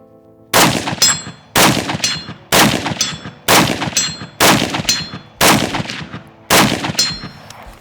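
Seven evenly spaced, sharp shots from a Swiss combat rifle, each followed by the bright metallic clang of a steel target ringing downrange, loud and nearby in a steady rhythm with no talking.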